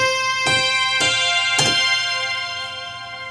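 A wide, sustained Roland JV-30 synthesizer tone holds steadily, with three soft percussive hits landing at even intervals before it fades slightly.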